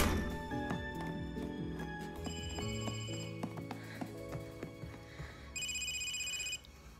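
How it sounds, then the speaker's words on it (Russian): A telephone rings in a Russian comedy film scene, its electronic ringing tone layered under dense background music, with a brighter repeated trill near the end. "телефон звонит"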